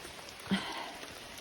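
Steady rain falls on the rocky Mahoosuc Notch trail, a soft constant hiss with no clear individual drops, plus one brief louder knock partway through.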